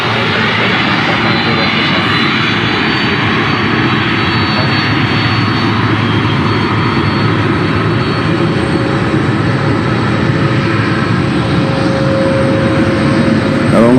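An aircraft at Memphis International Airport makes a loud, sustained jet engine roar that stays close and constant, with a steady tonal whine running through the broad rumble.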